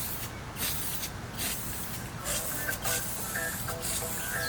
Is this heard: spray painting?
yes